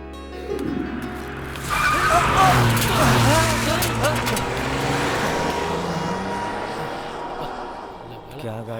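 A car skids hard with a long, loud tire squeal that swells after the first couple of seconds, then fades while the engine keeps running underneath.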